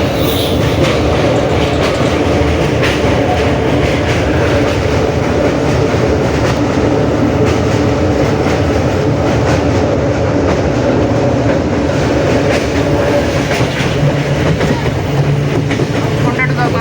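Teesta Torsa Express train rolling steadily along tracks near Hooghly in the Howrah division, a loud continuous rumble with wheel clatter heard from inside throughout.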